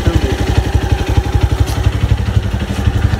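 A motorcycle engine close by throbs in a fast, even pulse, loud and clattering, as if held at high revs, with no talk over it.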